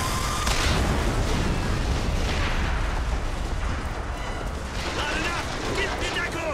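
Heavy gunfire and booming blasts from a chaotic shootout in the video game Bioshock Infinite, loud and continuous with bursts rising and falling, while someone talks faintly underneath.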